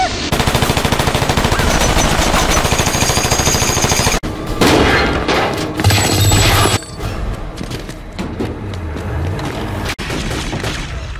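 Sustained heavy gunfire, rapid automatic bursts and booming shots firing loud and close almost without pause, with brief breaks and layered explosions through the barrage.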